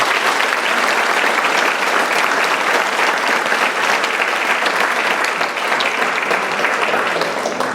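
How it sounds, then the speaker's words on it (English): Steady, full applause from the audience at a high school spring concert, honouring student musicians, dense and even throughout with no talking. "So a round of applause for these students."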